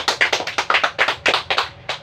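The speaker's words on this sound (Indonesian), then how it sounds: "Tepuk tangan dulu untuk kedua kelompok." Students in a classroom clap for two groups, a short, fairly sparse round of distinct hand claps with an uneven rhythm, heard close and without talk.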